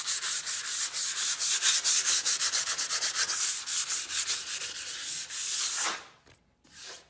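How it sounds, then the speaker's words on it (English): A 220 fine grit sanding sponge rubs back and forth over milk-painted furniture to distress it, a steady run of quick scratchy strokes that stops near the end, leaving a brief quiet. "I'm just using a 220 fine grit sanding sponge"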